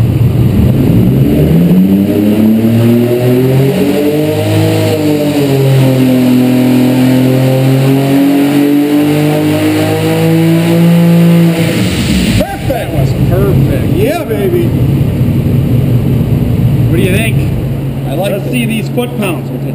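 Chevrolet 4.3 V6 twin-turbo engine making roughly 1247 horsepower roars continuously through a long rising dyno pull, loud and close, then drops off into rough, popping idle.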